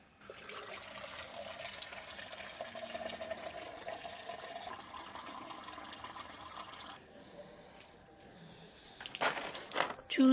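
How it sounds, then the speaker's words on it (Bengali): Tomato plants in a small vegetable garden are watered with a soft, steady pour of water, quiet and close, with faint rustling that swells into louder splashing and handling noise near the end. "সবগুলোতে বেশি বেশি করে জল দিতে হবে"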